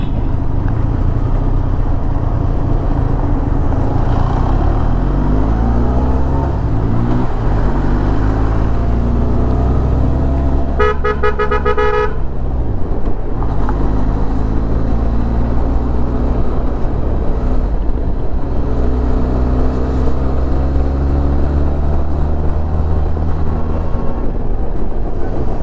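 Road traffic in Kerala with buses and a tempo traveller, a continuous close rumble of engines passing and revving, with a brief burst of horn blaring in the middle.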